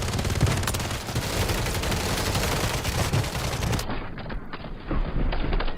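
Rapid, heavy bursts of automatic gunfire in the video game Call of Duty: Warzone, rattling densely for several seconds, then a short pause before more shots.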